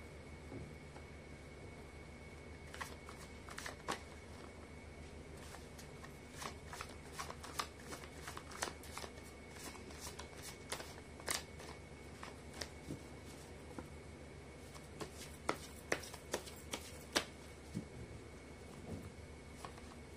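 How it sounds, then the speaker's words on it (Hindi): Tarot cards being shuffled by hand, a series of soft riffling flicks and taps in irregular bursts, quiet and close with a faint steady background hum. "कर लेती हूँ कार्ड की शफलिंग।"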